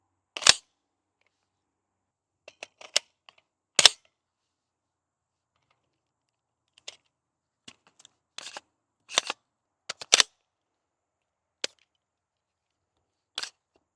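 A Daniel Defense PCC carbine's bolt snaps shut as a fresh magazine goes in. Sharp, close metallic clicks and clacks sound in scattered single hits, separated by long silences.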